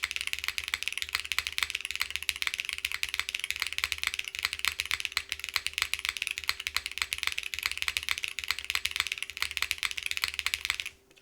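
Steady, fast typing on a custom-built MY-2K mechanical keyboard, dense key clacks close to the mic with a mid-heavy tone, continuous and alone before it stops at the end.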